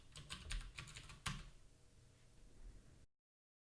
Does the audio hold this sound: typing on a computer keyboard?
yes